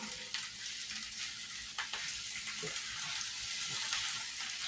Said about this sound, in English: we're going to dump the meat in there